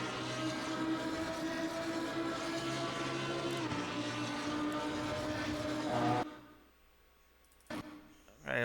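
A Lamborghini Huracan EVO racing at Suzuka in Assetto Corsa, its engine droning loud and steady at high revs for about six seconds, then cutting off abruptly before a couple of short bursts return.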